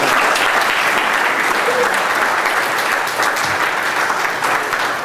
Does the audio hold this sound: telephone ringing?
no